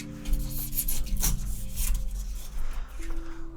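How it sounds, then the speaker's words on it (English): Rasping hand sanding on a hand-sculpted rock model, close and scratchy in short uneven strokes over a low steady hum. "we're going to do a little bit of sanding"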